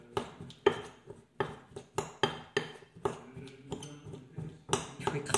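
A utensil stirs and mashes a thick cornstarch paste for homemade watercolor in a small dish, with repeated sharp clinks and scrapes in an irregular rhythm, close and moderately loud, with no talking.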